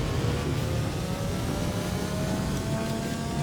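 Video game supercar engine in a Minecraft mod, revving steadily and loud throughout with a constant whirring tone, no pauses or voices.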